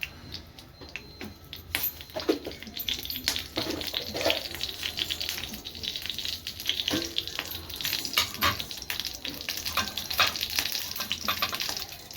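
Mustard seeds, cumin, curry leaves and dried red chillies splutter in hot oil as a tempering for capsicum chutney: dense, crackling pops over a continuous sizzle, irregular and close, lasting throughout.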